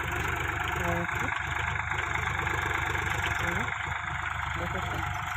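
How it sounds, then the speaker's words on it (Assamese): A farm tractor's engine runs steadily nearby, a continuous low idling chug with faint knocking throughout, with voices talking over it. "ট্ৰেক্টৰে বাই আছে"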